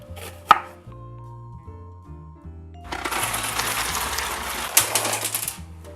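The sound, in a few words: chopping onions thinly with a knife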